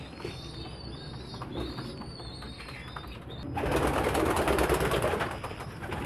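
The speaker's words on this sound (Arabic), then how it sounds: "حمام التحضين او حمام الخدامين او الحمام الخدام" Pigeons kept as breeding stock in a loft make low cooing calls over a steady background, and a louder broadband rush swells up midway through.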